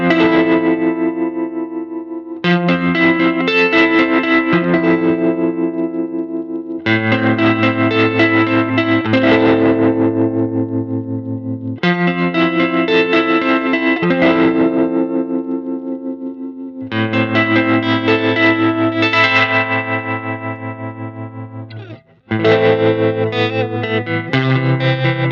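Electric guitar played through a reissue Fender '68 Vibro Champ amp with heavy, choppy tremolo, a series of sustained chords pulsing rapidly in volume, loud and close with no talking.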